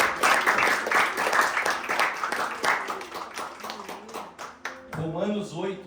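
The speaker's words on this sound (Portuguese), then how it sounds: "Você podia aplaudir ao Senhor por causa dessa palavra." Church congregation applauding during a Brazilian Christian service, dense steady clapping that fills most of the moment, then fades as a voice begins speaking near the end.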